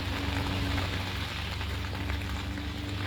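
Steady rain patters on surfaces in a continuous, even hiss at moderate level, with no voices.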